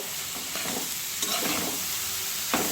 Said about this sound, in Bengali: আমি একটু এটাকে ভাজতে থাকবো, বেশিক্ষণ না, 2-3 মিনিটের মতো আমি গাজরটাকে ভাজবো